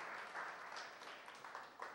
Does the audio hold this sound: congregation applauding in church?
yes